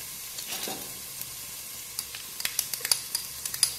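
Chopped fennel dropped into two tablespoons of hot olive oil, a soft sizzle rising into crackling, popping spits of frying, close and fairly quiet with no talking.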